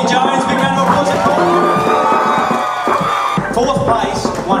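An audience at the Cashier of the Year grand final cheers, whoops and claps for a contestant, while a loud announcer's voice carries over the crowd noise throughout.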